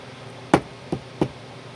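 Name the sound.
calloused finger tapping a desk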